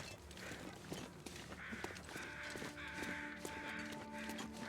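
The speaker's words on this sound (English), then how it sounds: "I'm hearing crows, which means maybe that bear is dead." Several crows caw repeatedly in a loose rhythm over a steady outdoor ambience in the video game The Long Dark, with faint footstep-like thuds underneath; no one speaks.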